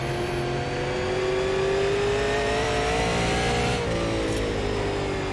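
A super late model race car engine at Hickory Motor Speedway in the iRacing sim revs out continuously, its pitch climbing steadily before a brief drop and recovery near the end, loud and close throughout.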